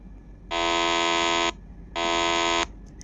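Two long electronic beeps from a video editing app's sound effect library, each about a second, loud and steady with a brief gap between, over a faint background hum.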